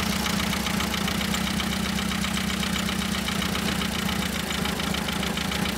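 A small moped engine runs steadily at a close, even idle, with a continuous buzzing, chugging drone and no change in pace, heard alone without talk.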